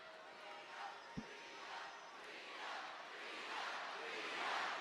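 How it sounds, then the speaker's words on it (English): Wrestling arena crowd chanting for Rhea Ripley during a WWE Raw broadcast, a rhythmic, swelling wash of voices that grows louder toward the end, with one sharp thump early on. "Crowd's chanting for Rhea Ripley."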